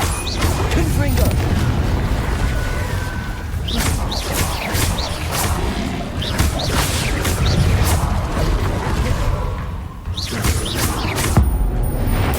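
Spell blasts from the Confringo fire spell in Hogwarts Legacy on PS4 go off amid the constant din of combat, with repeated booming impacts and crashes, loud and close.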